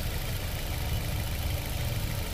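A Maruti S-Cross with a 1.2 litre petrol engine idles after a decarbonization treatment, producing a steady low rumble heard close up and alone, without talk.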